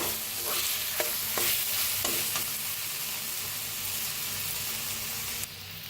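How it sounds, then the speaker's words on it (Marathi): Masala roasting in oil in a pan while being stirred: a steady, close sizzle with several scraping stir strokes near the start. No voices. "मस्त असा मसाला भाजायला लागलाय आपला।"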